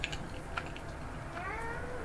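A house cat gives a few short, faint meows at close range in a quiet indoor room, with soft clicks and light background noise around it.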